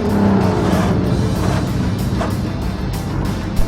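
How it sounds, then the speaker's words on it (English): A Rotsun race car roars along a racetrack straightaway at high revs, a loud, continuous engine drone close by with no talk over it. "I am on a racetrack with the Rotsun, and it rips down the straightaways"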